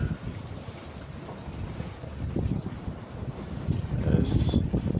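Sailboat rolling downwind through confused seas on a solo Atlantic crossing, with steady wind buffeting, rushing water and waves building louder toward the end.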